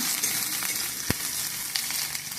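Onions frying in oil for pulao, a steady close sizzle with a few sharp crackles and pops, no voices.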